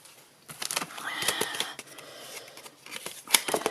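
Packaging of craft cutting dies torn open by hand at close range, with crinkly ripping and rustling in several uneven bursts and a sharp snap near the end.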